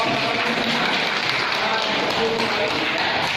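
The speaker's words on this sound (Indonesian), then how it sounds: "Tepuk tangannya buat" An audience in a teacher-training classroom applauds a group's practice demonstration, a dense, steady wash of clapping that fills the whole moment at fairly close range, with voices mixed into it.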